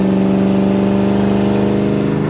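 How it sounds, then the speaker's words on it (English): A restored 1953 Chevrolet 3100 five-window pickup accelerates in third gear with its exhaust cutouts open, a loud, steady, deep engine drone with a rapid pulsing exhaust note, recorded close from inside the truck. "So you can hear the exhaust is quite a bit louder there."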